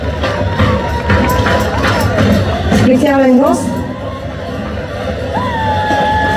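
Crowd at a Surva mask festival in Batanovtsi cheering and shouting, with a dense continuous roar of voices and whoops across the clip while an announcer speaks over a loudspeaker.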